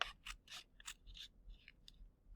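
Scissors snipping through folded paper, a series of about nine short, crisp cuts in an irregular rhythm, close and fairly quiet with no talking.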